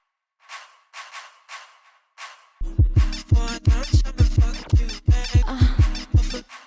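A stomp percussion sample in an FL Studio drill beat starts as a few soft, spaced hits and then kicks into loud, punchy repeated stomps with bass thumps, layered in a steady bouncing pattern.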